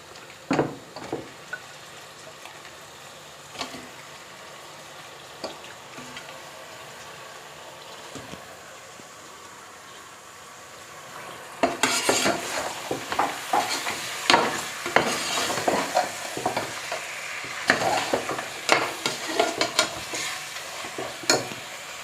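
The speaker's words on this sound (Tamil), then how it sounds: "இந்த மட்டனை இதில் போட்டு கிளறி விட்டுக்கலாம்" Mutton with ginger garlic paste is stirred in a hot pan: a quiet, faint sizzle with occasional scrapes at first, then a loud burst of crackling, spattering frying and frequent utensil clatter for the second half.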